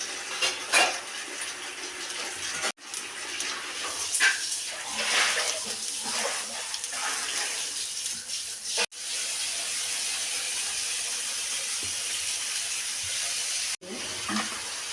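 Mustard seeds sizzling in hot oil in an appe pan, a close, hissing crackle with small pops, broken by a few abrupt cuts, with clinks of utensils early on and a faint voice in the background.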